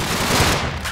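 Rapid automatic gunfire rattles through a Minecraft family roleplay game, a brief dense burst of shots that sounds fairly close and fills the whole moment.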